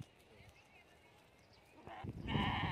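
Sheep bleat near the end after a quiet stretch of faint rustling and background noise on a goat farm, the bleats rising louder and closer in the last second.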